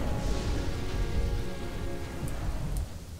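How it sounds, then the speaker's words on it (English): Steady rain pours down in the Kingdoms and Castles strategy game, a dense continuous hiss with low rumbling underneath and a couple of faint high ticks near the end, with no voices. "And it's raining."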